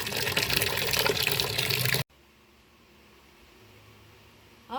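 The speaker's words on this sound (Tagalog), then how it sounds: "Ayan, huhugasan muna natin bago tayo bumaba." Sweet potato tops are rinsed under a running kitchen tap: a loud, close gush of water for about two seconds, then the flow stops, leaving a quiet room tone.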